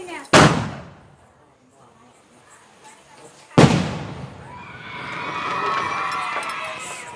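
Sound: firecrackers bursting

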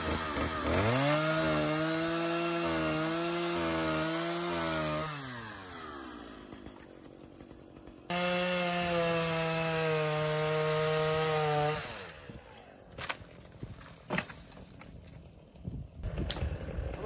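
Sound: Stihl MS290 chainsaw cutting firewood

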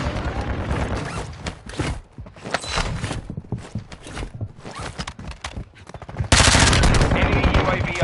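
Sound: gunfire in video game Warzone

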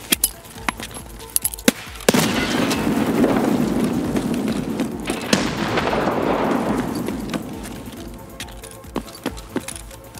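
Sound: RGO grenade explosion in Escape from Tarkov video game

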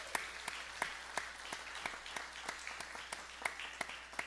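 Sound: audience applauding new bass player

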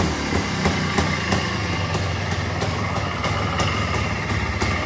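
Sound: TY250 motorcycle engine running

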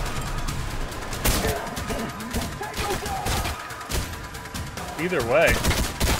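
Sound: sniper rifle gunfire in the video game Trepang2

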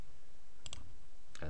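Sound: computer mouse clicking

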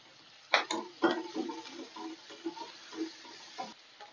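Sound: onion and crushed garlic sautéing in a pan

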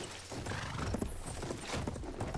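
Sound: horse hooves and whinny in video game Battlefield 1

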